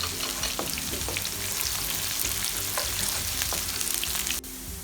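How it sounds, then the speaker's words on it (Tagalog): Garlic and onion sauté in a pan for pancit canton guisado, a loud continuous sizzle with occasional spatula scrapes that cuts off abruptly near the end. "Isutay po natin ang ating garlic hanggang mag light brown po siya."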